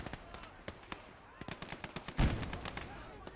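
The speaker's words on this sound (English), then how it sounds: "I think the MG on this is actually working now." A mounted machine gun fires in Gates of Hell, a World War II battle between German and Soviet forces in a village. Distinct bursts of sharp, evenly spaced shots ring out, then a louder heavy blast near the end.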